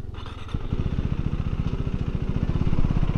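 A 2024 KTM Duke 390 motorcycle accelerates through the gears, its engine a loud, close, rapid pulsing growl rising in pitch, no talking.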